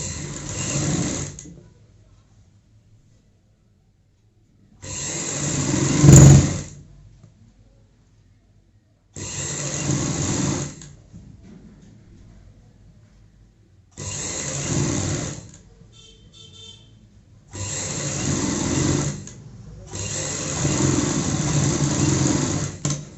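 Sewing machine stitching a baby frock in five long bursts of steady motor whir with a few brief pauses between them, close and fairly loud, no talking.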